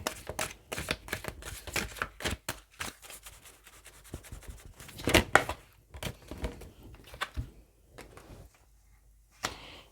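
Tarot cards are shuffled and drawn by hand in a quiet room: a close run of quick papery riffles, slides and taps, bunched in bursts with brief pauses and a sharper slap midway, no talking.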